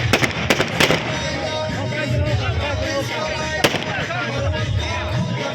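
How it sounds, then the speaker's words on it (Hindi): Celebratory gunfire welcoming politician Sher Afzal Marwat in Lakki Marwat: a few sharp cracks and bangs punch through a loud, continuous crowd din of voices and bustle. "उधर फायरिंग से मरवत साहब का इस्तिकबाल हो रहा है।"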